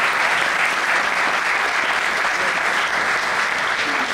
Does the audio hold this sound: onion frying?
no